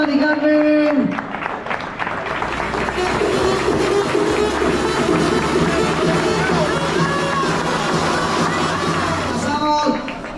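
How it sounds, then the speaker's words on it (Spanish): A crowd at the awards ceremony of an urban race in El Gastor applauds and cheers loudly for a women's champion, with whoops and children's shouts over continuous clapping and a voice heard at the start and end. "¡Fuerte aplauso para Mari Carmen!"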